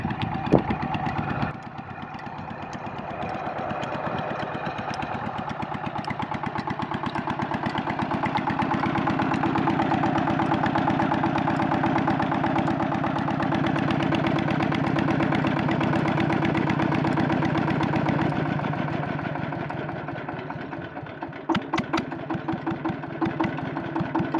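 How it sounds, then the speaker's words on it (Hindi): A tube well pump engine in a Pakistani village runs steadily, a loud mid-pitched mechanical drone with a slight rise in revs partway through, then sputters and cuts near the end with a few knocks. "अभी तक ट्यूबवेल चल रहा है, इसे अभी बंद करते हैं"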